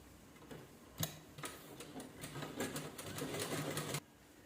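A sewing machine runs in short bursts, stitching lining to the main fabric of a cloth bag, with quick rattling clicks and a faint motor hum, quiet and close.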